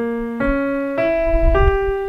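Piano playing three separate chord notes one after another, each struck note ringing on and overlapping the next, a slow arpeggio with the A omitted, clear and alone with no talk.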